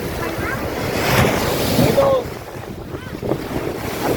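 Surf rolls onto the beach at Rameswaram with a continuous loud wash and roar, buffeted by wind noise on the microphone, as people speak faintly now and then.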